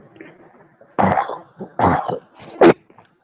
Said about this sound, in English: We can hear you coughing